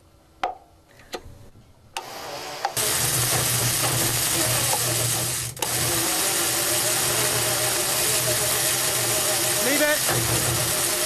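A 1949 Centurion tank engine cranks loudly and steadily after a few preliminary clanks, a sustained mechanical churning with no catch or start, near and continuous for most of the clip.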